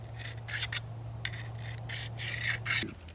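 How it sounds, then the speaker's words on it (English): An old Kershaw knife blade drawn through a Speedy Sharp carbide sharpener, giving several quick raspy scraping strokes in an uneven rhythm over a low steady hum, close and fairly quiet with no speech. "That's a lot of blade to sharpen."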